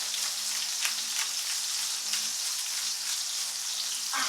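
Hot oil sizzles in a frying pan with a continuous bright crackle, close and steady, spiked now and then by sharper pops.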